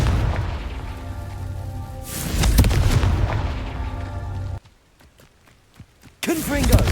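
A Confringo blasting spell exploding in Hogwarts Legacy: heavy booming blasts and rumbling impacts, then a sudden near-silent stretch with faint clicks before another burst erupts, with a voice heard at times.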